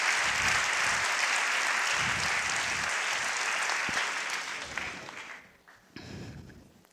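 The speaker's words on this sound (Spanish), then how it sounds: "Quiero que le deis un gran aplauso." Audience at a Naukas science talk event in Valladolid gives a big round of applause, loud dense clapping that holds steady then fades and tapers off near the end.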